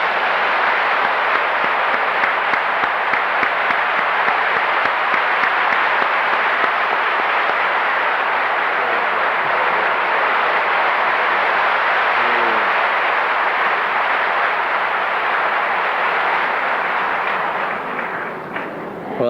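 A large church congregation applauds steadily to welcome the missionary John Huston, a sustained, dense wash of clapping that holds for nearly twenty seconds before beginning to thin at the end.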